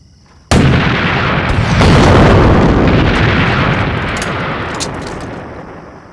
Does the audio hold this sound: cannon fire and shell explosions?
yes